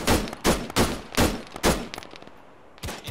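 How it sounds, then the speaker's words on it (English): Gunfire in a military video game: a run of loud, close shots in rapid bursts, roughly evenly spaced with a brief lull before a final shot. "We're shooting him."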